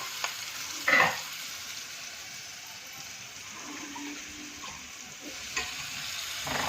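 Masala spices roast in a pan for onion and potato curry with sev, giving a soft, steady sizzle along with a brief clatter of stirring near the start and another later on.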